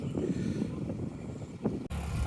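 An overloaded cargo trawler boat on the Shitalakshya river produces a low, steady engine drone mixed with wind buffeting. One short dropout comes just before the end.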